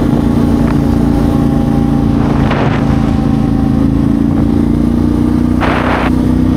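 A loud, steady motorcycle engine drone runs throughout with a low constant rumble, punctuated by a couple of brief gusty bursts, while riding off-road on the Transalpina mountain road in Romania.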